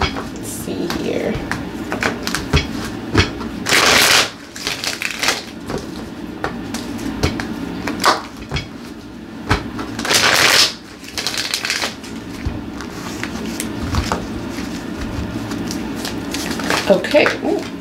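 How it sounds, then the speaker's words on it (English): A tarot card deck is shuffled close by in repeated riffling and rustling bursts, several of them sharp and loud. A voice talks over parts of it. "Shuffling this deck"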